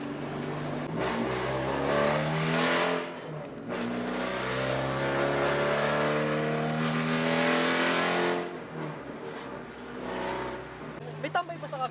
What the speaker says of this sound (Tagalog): Naririnig mo ba yung kotse mo sa labas?